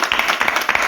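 A church congregation claps in a quick, irregular rhythm, many hands striking close and loud, a dense burst of crisp slaps with no voices over it.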